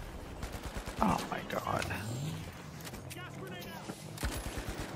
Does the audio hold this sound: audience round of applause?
no